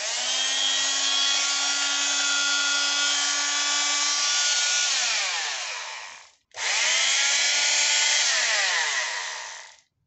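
A Ryobi HMP-180 multi-tool powered on for the first time, a loud, steady high-pitched oscillating whine running continuously, briefly cutting out and then starting again.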